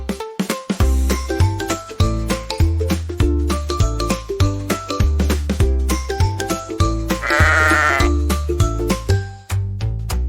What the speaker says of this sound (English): On our farm we have a sheep, ba ba ba all day.